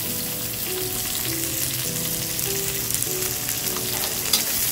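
Green chilli pieces and carrot sizzle steadily in an oily pan while being sautéed for veg hara bhara kabab, a continuous close crackle with occasional stirring scrapes.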